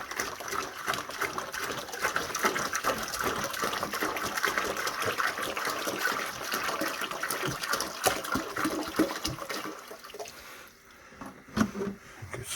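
A gallon of warm water gushes steadily into a dump can during cleaning, a loud continuous splashing pour that tapers off near the end with a few final splashes.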